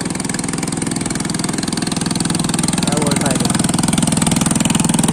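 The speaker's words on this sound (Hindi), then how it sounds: "और बोट जा रहा है, छोटा बोट" Small village boat engine puttering steadily as the boat moves off, a loud, even rhythmic chugging throughout, with a voice briefly heard over it.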